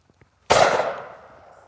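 A single sharp shotgun blast from a Miroku MK11 game gun firing high velocity cartridges outdoors, loud and close, with a decaying tail after two faint clicks.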